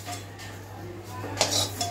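Bojwara (biryani) flowers and leaves being fried in a pan, with soft clinks of a utensil against the cookware over a steady low hum, one sharper clatter near the end and no talking.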